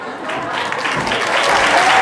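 A live crowd at a Christmas Schlager show bursts into sustained, dense applause for a costumed Carnival performer, steady and loud throughout with no speech over it.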